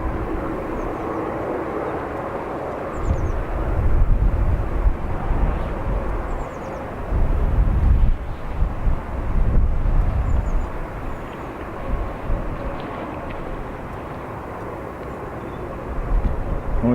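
An airliner on flight AC801 to Toronto takes off at Dublin Airport with a continuous heavy jet roar that swells and ebbs from a distance, while faint bird chirps come through now and then.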